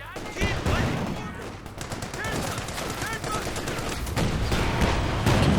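Rapid machine gun bursts rattle on without pause in a Company of Heroes 2 match, dense and loud, with a commentator talking over the gunfire.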